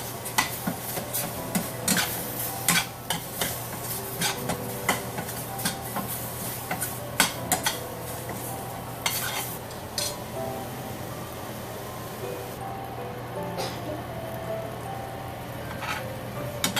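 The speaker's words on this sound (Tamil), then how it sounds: "நல்லா தக்காளி வெங்காயம் அந்த காரப்பொடி எல்லாம் போட்டு நல்லா கொஞ்சம் வதக்கியாச்சு" Tomato, onion and chili powder are sautéed in a pan, a soft sizzle under frequent ticking scrapes and clicks of a spoon stirring against the metal, continuous and close with no speech.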